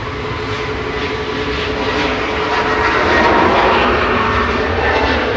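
An EasyJet Airbus A321neo departs Manchester Airport for Malaga, its engines producing a loud, continuous jet roar that swells slightly toward the end, heard alone without talk.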